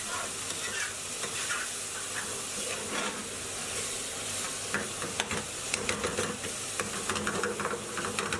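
Spices and base gravy for a chicken madras curry fry in a pan, a steady close sizzle and hiss broken by stirring clatters and scrapes, with no voices.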